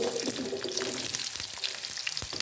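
Onions in hot oil for a chicken shahi korma, a steady, moderately loud sizzling crackle with scattered soft pops and taps throughout.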